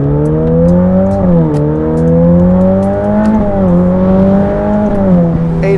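Ferrari F8 Novitec with a 3.9-litre twin-turbo V8 pulls hard under acceleration, a loud, steady engine drone rising through the gears with brief dips at each shift, heard close and alone without talk.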